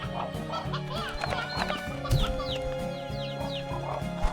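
Hens and random chickens cluck repeatedly in Slime Rancher 2, a video game, as short fowl calls over a steady, layered game soundscape of background music and chirps, with one louder squawk midway.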